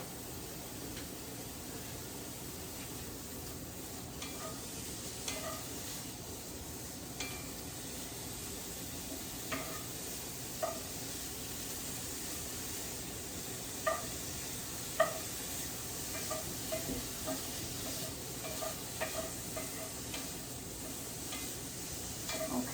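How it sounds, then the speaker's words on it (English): Chopped bacon, about four slices, sizzling in a pan heated to 425 degrees, a steady quiet crackle broken by occasional utensil clicks and stirring taps. "We're gonna throw about 4 slices of chopped bacon in there."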